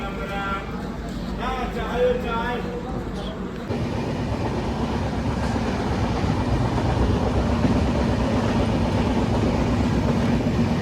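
A train rumbling along the rails with a continuous roar and rhythmic clatter, loud and close; voices are heard briefly at the start.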